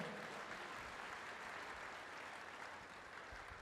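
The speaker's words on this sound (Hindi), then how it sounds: "तारीफ करो ताली बजाकर।" Church congregation clapping in praise during a Hindi-language worship service, a faint, continuous wash of many hands heard at a distance, steady from start to finish with no talking.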